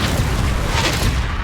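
A Confringo spell explosion in Hogwarts Legacy, a loud, dense, sustained blast of noise lasting the whole moment with no break.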